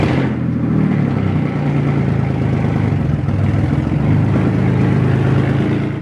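Wrecked Porsche Cayman GT4 driving, its engine droning loud and close with steady revving and a rough clattering edge throughout.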